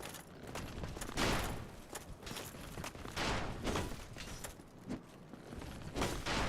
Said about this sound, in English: Not just arrows. They're shooting spears.